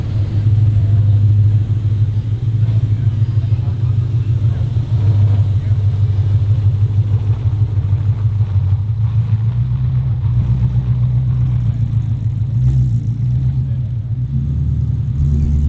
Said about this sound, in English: A very cool 1969 Ford Fastback Mustang VooDoo from Boneyard Builds.